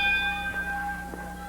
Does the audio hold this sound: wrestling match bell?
yes